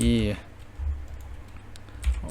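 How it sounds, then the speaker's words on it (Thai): Someone types a command on a computer keyboard to bypass sign-in during Windows 11 setup, producing soft, close key clicks after a short burst of speech, with low hum underneath. "จากนั้นพิมพ์คำสั่งต่อไปนี้นะครับ ก็ให้พิมพ์ OOBE"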